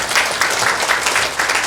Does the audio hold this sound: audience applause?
yes